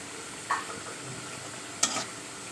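Chopped green chilli is tipped into hot oil with spices, giving a steady low sizzle broken by two brief sharper bursts of crackle and stirring, close by, with no talk.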